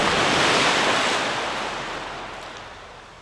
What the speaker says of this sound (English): These are the waves that arched and crashed, that foamed and frolicked and sprayed and splashed